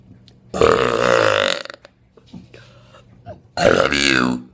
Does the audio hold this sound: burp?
yes